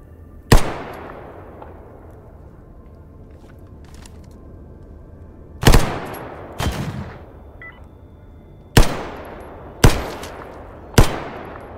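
Enemy rifle shots in the video game Stalker Gamma, played on hard mode: six sharp, loud single cracks spaced irregularly over about twelve seconds, each with a brief echoing tail, over quiet ambience and no talk.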